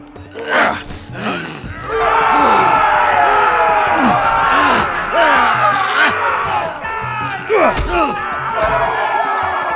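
Arena crowd in a Game of Thrones Telltale video game roaring and cheering, a loud sustained mass of shouts and jeers swelling after a short lead-in, with a few louder bursts layered on top.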